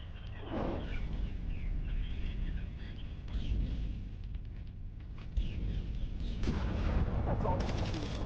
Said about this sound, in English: It looks like we have our ships here. They are opening fire.